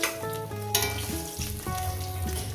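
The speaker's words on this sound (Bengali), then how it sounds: "বাদবাকি মাছগুলো আমি দিয়ে দিচ্ছি এগুলো ভেজে নিচ্ছি" Fish sizzle and fry in hot oil in a pan, a loud continuous crackle with occasional stirring and utensil clatter.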